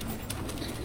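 Male pigeons in a loft, including a Mayna flock cock, cooing in a low steady murmur for under a second, close by with faint background noise.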